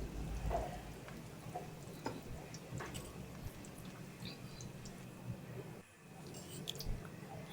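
Semolina (rava) pakoras frying in hot oil over a medium flame, a faint steady sizzle with scattered small crackles and pops throughout.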